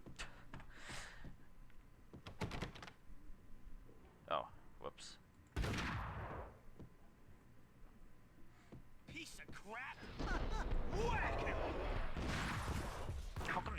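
Gunfire in the Max Payne video game on PC, with sharp shots and a burst of rapid fire, then a loud, dense volley near the end, heard over background game sounds.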